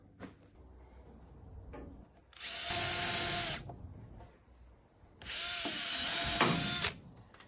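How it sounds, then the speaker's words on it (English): Two loud whirring bursts from a power drill piloting holes through existing bolt holes in timber boarding on the side of a train carriage, with quiet handling noise between them. "I'm going to pilot them first through all the existing bolt holes"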